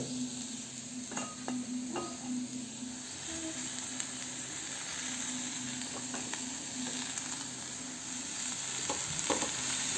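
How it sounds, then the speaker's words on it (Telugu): Egg fry masala cooking in a pan, a soft steady sizzle under a low hum, with scattered clicks and scrapes of a spoon stirring, quiet and close, growing slightly louder toward the end. "ఇవి మొత్తం కలిపి ఒక వన్ మినిట్ అంతసేపు ఫ్రై అయిన తర్వాత"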